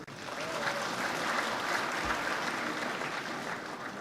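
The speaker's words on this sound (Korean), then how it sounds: "한 분 한 분 소개해 드릴 때마다 큰 박수로 환영해 주시면 감사하겠습니다" A large audience at a university graduation ceremony claps steadily for guests as they are introduced, a dense, even wash of applause heard from a moderate distance and held without letup.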